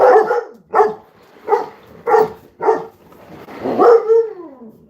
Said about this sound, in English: That's how Pressure releases all his barks